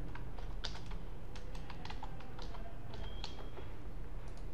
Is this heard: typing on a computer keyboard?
yes